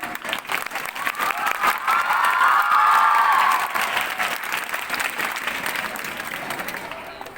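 Steady, close applause fills a school function hall as a teacher is honoured, with a shrill whistle-like cheer rising midway and voices murmuring beneath the clapping.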